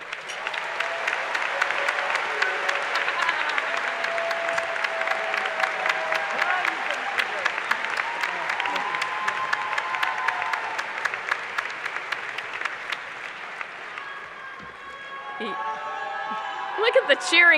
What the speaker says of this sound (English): Look at the cheering crowd over there for Armando.